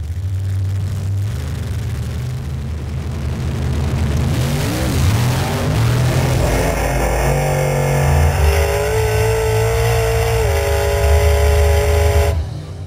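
Two Chevrolet cars, one white and one red, rev hard and launch in a night street drag race, loud close engine roar rising through the gears and sustained to the end without talk.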